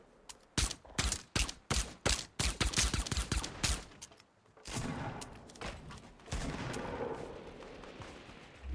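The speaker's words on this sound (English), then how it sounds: "The shots do like 40 damage" A rapid series of about a dozen sharp gunshots in a video game bursts out close and loud, then gives way to a noisier, rumbling stretch with a few scattered impacts.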